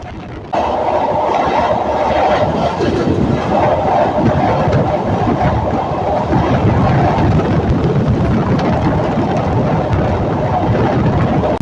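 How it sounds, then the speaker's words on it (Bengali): The Nakshikantha commuter train crosses the elevated Buriganga rail bridge with a loud, sustained rumble and rhythmic wheel clatter close by, with no talk. "বুড়িগঙ্গা রেল সেতু অতিক্রম করে যাচ্ছে নকশিকাঁথা কমিউটার ট্রেন।"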